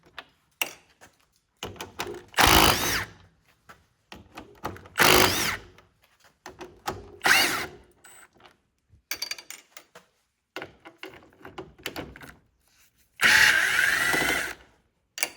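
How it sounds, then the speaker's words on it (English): A Milwaukee 1/4-inch hex driver backing bolts out of a 2015 Ford Mustang 3.7L V6 during headlight housing work, with several short loud whirring bursts separated by quiet pauses and small clicks, close by with no talk. "I want to shout out this 1/4-inch hex driver"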